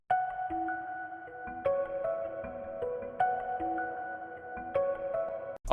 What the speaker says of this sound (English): Next on our list, we have the Rody Guitarette.